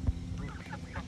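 Ducks on an outdoor pond giving a brief burst of nasal quacking and honking, fairly near and moderately loud.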